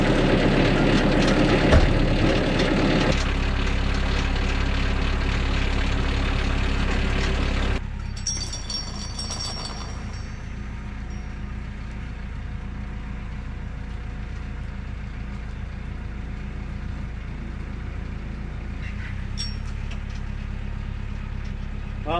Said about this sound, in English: all it's doing is sliding the tractor back